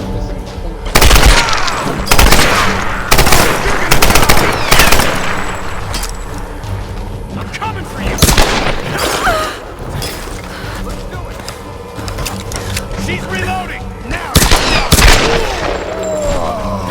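Rapid gunfire erupts in the Tomb Raider reboot video game, with repeated loud, sharp volleys and crashing impacts across the whole stretch while voices occasionally shout over the din.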